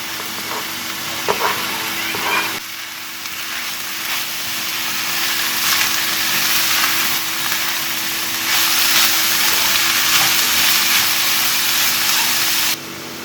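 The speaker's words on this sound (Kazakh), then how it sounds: "пияз бен сәбізімізді қуырып аламыз сарғайғанша" Vegetables frying in oil give a constant, loud hiss and crackle that swells in the middle, with a low hum underneath.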